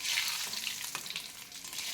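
Cumin seeds, cinnamon and bay leaves sizzling in plenty of hot oil in a kadai, a dense, continuous close hiss with faint stirring and no talk.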